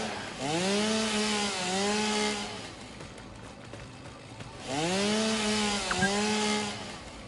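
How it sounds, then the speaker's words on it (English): Two long, loud chainsaw cutting passes from the video game Satisfactory, each whining with a rising and falling engine pitch. A quieter gap separates them. "I wonder what an upgraded chainsaw would have."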